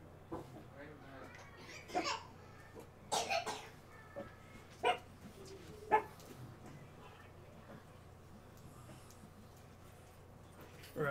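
A dog barks several times in short separated bursts at moderate distance, with a person's voice and coughing mixed in over a low steady background hum.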